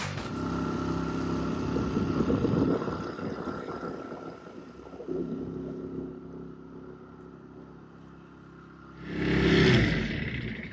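A boat engine idles and hums at low pitch, surging louder for a moment, then a brief hiss of rushing air or spray near the end.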